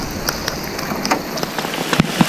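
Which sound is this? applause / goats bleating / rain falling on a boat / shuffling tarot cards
rain falling on a boat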